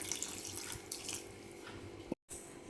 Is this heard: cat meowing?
no